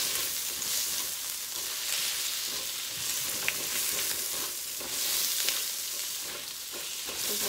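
Shrimp frying in oil on medium-high heat for shrimp fried rice, a loud, bright, steady hiss and crackle of sizzling oil, close up and continuous, with occasional faint stirring clinks and no voices.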